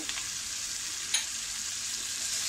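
Cashews fry in a cooked onion-tomato masala with a steady, moderately soft sizzling hiss that runs throughout, broken once by a brief light tap.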